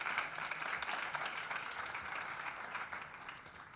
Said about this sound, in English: So let's applaud José Manuel.